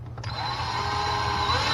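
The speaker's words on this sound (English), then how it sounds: "I'm going to put these screws in a little bit at an angle to start with, just enough to get a bite on the wood on that stud" A power drill drives a screw into a wooden wall stud, running in one steady whine for under two seconds with a faint low hum beneath.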